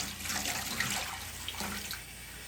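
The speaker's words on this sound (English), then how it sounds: "I'll just add a little bit more water." Water pours and splashes into a container to submerge an Atari 800XL keyboard circuit board, a close, running trickle with small bursts before tapering off.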